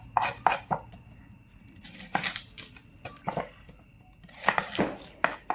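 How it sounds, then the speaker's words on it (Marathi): A knife chopping onion on a board, uneven bursts of crisp cuts with short pauses between them, close and moderately loud, with no talking. "आता कांदा कापून घेते"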